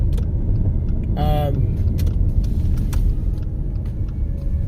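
A car cruising along a very dark road at night, a steady low engine and road rumble running throughout, with a brief tonal whine partway through.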